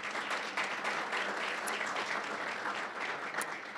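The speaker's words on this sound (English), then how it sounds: "So let's give them a round of applause." An audience at a college jacketing ceremony applauds for the board of trustees, a steady wash of many hands clapping, fairly distant and soft, with no talking.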